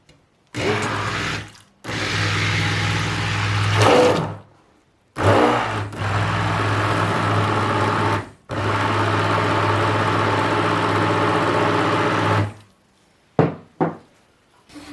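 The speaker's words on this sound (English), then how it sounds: "we want to blend this to make sure it's all very well incorporated into here" An electric blender whirs in loud bursts through hibiscus pomegranate emulsified body butter made with distilled water, oils, butters, e-wax and stearic acid, running in three long pulses separated by short pauses, with a few clicks at the end.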